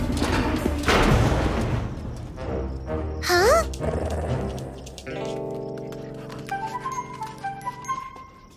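A cartoon dog barks and yips in a lively burst, followed by whimpering, jingling tinkles and a bright musical sting, all close and loud in an animated children's scene.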